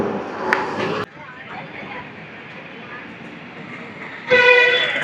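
A train rolls past a railway crossing near Mahabubnagar, heard from a bus, with a steady rumble and clatter, a sharp honk near the start and a bright horn blast toward the end, and voices faintly underneath.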